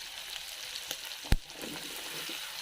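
Meat sizzles in a pan of its own rendered oil, a steady crackling hiss close by with one sharp pop partway through.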